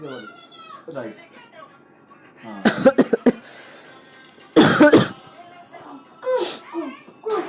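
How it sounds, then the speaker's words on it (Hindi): A person coughs in several harsh bursts, a rapid cluster and then a louder fit, amid voices and vocal noises nearby. "भाई देखते हैं ये कौन खांसा जा रहा है। खांसी पे खांसी।"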